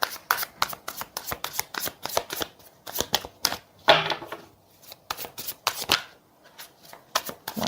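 Tarot cards are shuffled by hand during a reading, rapid riffling bursts and soft slaps in an uneven rhythm, close and clear with no talk.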